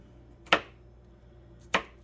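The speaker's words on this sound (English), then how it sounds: "So just chopping up the jalapenos." Two sharp knife chops on a cutting board as jalapenos are cut up, each a crisp close thud about a second apart, with quiet room tone between them.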